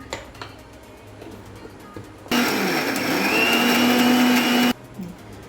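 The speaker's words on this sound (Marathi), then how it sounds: "मिक्सरमधून जाडसर वाटून घेणार आहोत एकदम बारीक काढायची नाही" A mixer grinder roars loudly for about two seconds as it coarsely grinds black-eyed pea (chavali) dal, then cuts off abruptly, with quiet kitchen clatter before and after.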